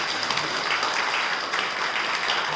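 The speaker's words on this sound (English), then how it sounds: "So let's give Penny a round of applause." Applause from a church congregation during a Sunday morning service, honoring a volunteer award; steady, fairly faint clapping that continues evenly throughout.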